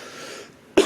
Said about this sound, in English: Wow, cannot stop coughing today.